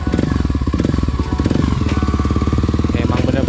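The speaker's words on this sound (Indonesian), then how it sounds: "Sekarang kita coba starter. Apakah dia nyala?" A motorcycle is started with its electric starter, powered by a Vtoman V6 Pro portable power station, and its engine then runs loudly and steadily with a dense rhythmic chatter throughout, close to the microphone, with no talk.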